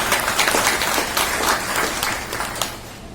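Sustained applause fills a bank branch office during an Independence Day flag-hoisting ceremony, a steady crowd of hands clapping without pause for several seconds before tapering slightly at the end.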